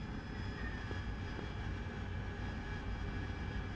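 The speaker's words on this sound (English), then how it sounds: "Harrier came." A Harrier jet's engine in a flight simulator game gives a steady, faint, even roar with a thin high whine, continuous and unbroken with no voices.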